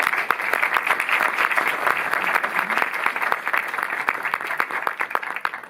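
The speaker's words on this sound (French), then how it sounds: "que je vous remercie de bien vouloir applaudir" An audience in a Paris cinema applauds at a film preview screening, a sustained, even wash of many hands clapping close and full from start to finish.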